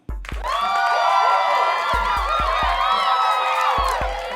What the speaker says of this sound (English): a round of applause to Minkah Fitzpatrick